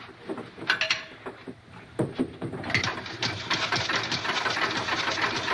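A boat engine in a 1941 film sputters and catches, then settles into a steady mid-pitched running rumble, preceded by a few irregular bangs and knocks, close and moderately loud.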